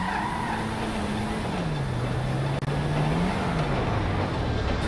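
In GTA Online, a truck engine drones steadily nearby with no one talking, its pitch sagging and then rising again as the truck drives on.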